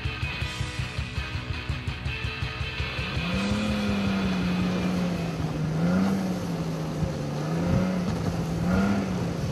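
Snow vehicles driving in snowy Montana: a rapid rhythmic engine chugging at first, then a loud engine whine that rises and falls as it revs, close and continuous with no talk.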